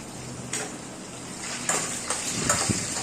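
Dried red chillies and lentils sautéing in hot oil in a home kitchen for Pallipalayam chicken, giving a constant hiss of frying with a few light scrapes and clinks of a spoon against the pan.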